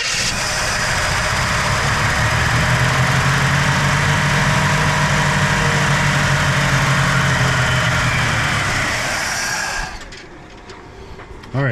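An old car's engine, off the road since 1983, runs loud and steady after being fed fuel, a rough continuous roar that cuts off near the end, leaving quiet background.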